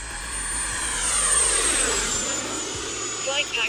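A Horizon Hobby RC F-16 model jet makes a high-speed pass, its loud whining turbine-like roar sweeping down in pitch as it rushes by nearby, with no speech over it.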